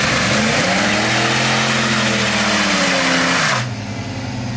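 The V8 of a drift Mustang revs up close and loud, rising smoothly to about 3,500 rpm, holding, then dropping back to a lower idle.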